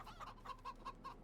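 Chickens in the farming game Farming Simulator 25 give a quick run of soft, repeated clucks, about five short calls in just over a second, faint and alone.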